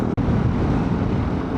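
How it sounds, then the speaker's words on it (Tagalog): Cold wind gusts across a mountain campsite in Tanay, Rizal, roaring loudly and steadily against the microphone as broad rushing noise, with one brief dropout near the start. "Sarap ng hampas ng hangin."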